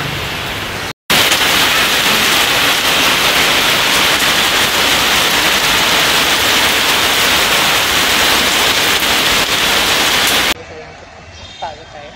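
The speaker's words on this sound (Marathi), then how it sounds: "बट आता पाऊस सुरू झाला. मी मला पाऊस दाखवतो." Steady, dense hiss of heavy rain falling continuously and loudly, broken by one brief dropout near the start and easing to quieter drips and a softer wash at the end.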